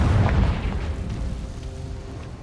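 The Confringo blasting curse from a Hogwarts video game bursts in a heavy, booming explosion, loud and close at the start, then rumbling away into a fading low tail.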